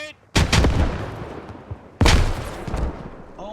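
Two loud, close explosions from grenades in a military shooter game, each a sharp boom with a rumbling tail, about one and a half seconds apart.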